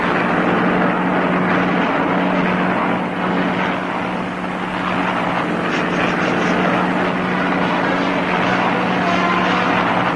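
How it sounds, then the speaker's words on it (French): A propeller airplane drones steadily in flight as a sound effect in the 1960 animated Tintin film The Black Island, a loud continuous engine hum holding throughout with no speech. "Je suis persuadé que Tintin est dans cet avion."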